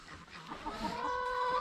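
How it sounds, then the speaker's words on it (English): Hungry chickens cluck and squawk before being fed kitchen scraps, a close, rising chorus of overlapping fowl calls. "So the chickens, as you can see, they are hungry and ready to be fed."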